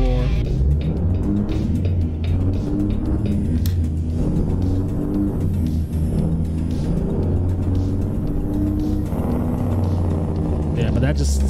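A heavy truck engine in American Truck Simulator roars loudly and steadily throughout, with deep rumbling tones and rising revs, while a voice talks over it.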